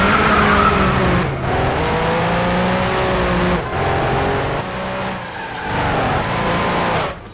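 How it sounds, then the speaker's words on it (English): A TVR Speed 12 from a PS1-era racing game roars loudly and continuously, its engine note rising and falling through gear changes, with tyre squeal and skidding mixed in and no voices. "By the way, check out the sound of this car."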